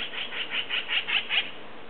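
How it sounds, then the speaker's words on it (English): A magpie calling in the background of an olive grove, a series of about seven rhythmic chattering calls, fairly faint and distant, with no talking. "And that's a noisy magpie in the background."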